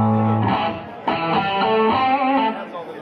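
A Line 6 Variax electric guitar set to its Les Paul model, demonstrated at NAMM 2015, rings out held chord tones and a few picked notes with a driven, sustained edge, loud and close.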